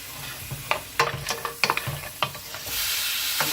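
Lobster sautéing in a pan with Indian spices, a soft sizzle under a series of sharp spatula taps and scrapes, then an even hiss toward the end.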